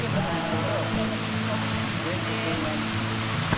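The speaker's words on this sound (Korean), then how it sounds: "계곡 물소리 들리고요" Mountain stream water rushes steadily through jungle near a small waterfall in Doi Inthanon National Park, Thailand, a constant close wash of flowing water filling the clip.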